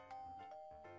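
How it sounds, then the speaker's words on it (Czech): Doorbell in the Minecraft video game chiming a ding-dong pattern of bright repeated tones, loud and close, with no talk over it. "No jo, to je zvonek"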